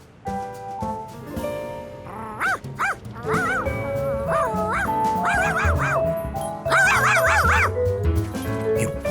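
A cartoon dog yips and barks in a run of short, bouncy yelps and whimpers, loud and close, with a busy cartoon soundtrack underneath.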